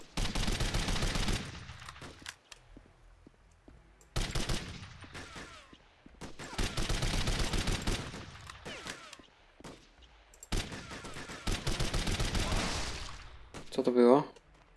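Gunfire and a grenade blast in the Code of Honor shooter game, French Foreign Legion mission: several loud bursts of combat noise separated by short gaps, with talk over parts of it and a sharp final burst at the end.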